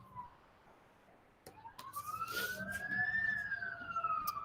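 A single siren wails in the distance, its tone rising and falling as it passes, with faint background hum and no talking.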